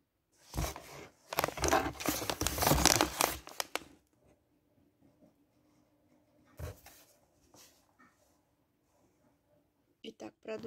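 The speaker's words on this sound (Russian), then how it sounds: "У меня сегодня распаковка Siberian Wellness. Показываю, как все приходит в коробочке." Crinkling and rustling of packaging as a Siberian Wellness wellness-products order is unboxed from its box, bursts of loud crackle early, then softer scattered handling noises.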